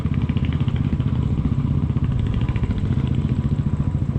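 A 125cc motorcycle engine on a mountain road on a Ladakh ride from Srinagar through Sonamarg to Kargil, loud and close with a steady droning thrum and rhythmic pulsing throughout, no talk.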